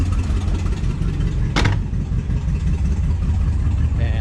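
A 1974 Buick Regal engine idles steadily up close after a fuel pump replacement, a continuous low rumble with one brief sharp click partway through; no speech.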